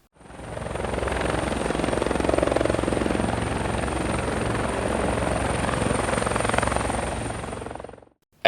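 A cartoon helicopter from Cadillacs and Dinosaurs drones loudly and continuously, a steady beating rotor roar with a high whine that starts quickly, holds for several seconds and then cuts off sharply.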